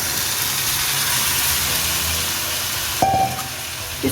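Chicken frying in a karahi, a steady broad hiss and sizzle that runs evenly at moderate level, followed near the end by a sudden clatter and brief tonal ring, with no talking.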